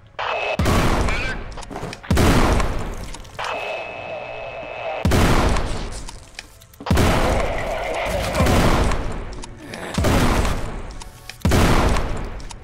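Shotgun blasts in the first-person shooter game Forgive Me Father, about six loud booming shots spaced roughly two seconds apart, each with a rumbling tail over game background noise.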